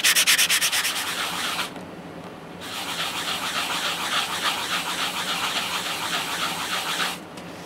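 A coin ring is rubbed back and forth on sandpaper, producing close, rough scraping strokes in a steady rhythm, with rapid short strokes at first, a brief pause, then longer continuous sanding, and no speech.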